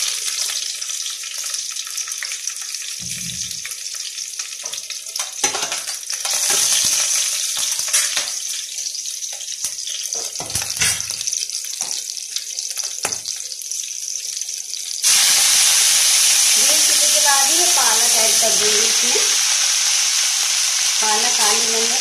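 Green chilli hits hot oil in a pan, giving bursts of sizzling and stirring clatter, then a louder, continuous fry with running-water hiss near the end; no talking.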